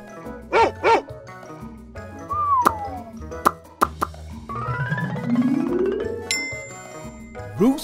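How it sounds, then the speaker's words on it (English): Two quick dog barks near the start, followed by playful musical plops, dings and sliding tones with no talking. "Dog."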